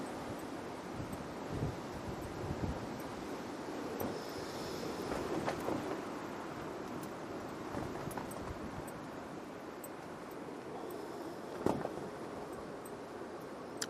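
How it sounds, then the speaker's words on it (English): Strong wind gusts across an airport runway, a steady, fairly quiet roar of wind buffeting the microphone with small swells and one brief sharper bump, no voices. "And that wind has really just got up."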